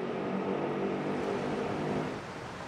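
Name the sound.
trucks driving slowly through floodwater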